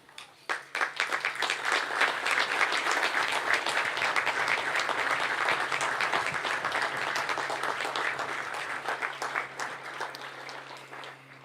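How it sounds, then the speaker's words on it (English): Sustained applause from a graduation ceremony audience honoring graduates and faculty, beginning with a few scattered claps, swelling into dense steady clapping, then thinning out near the end; a low hum sits underneath. "if you could just honor them by giving them a round of applause"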